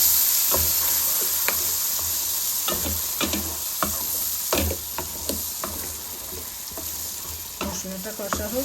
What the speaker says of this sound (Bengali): মশলাটা কষা হোক, তারপরে হলুদ মরিচের গুঁড়ো দিব।